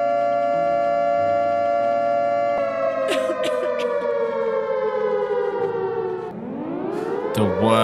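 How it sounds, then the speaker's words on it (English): A loud wailing siren in the video game DayZ holds a steady tone, then swoops downward and rises again, with faint clicks and clatter layered underneath. "What is that siren?"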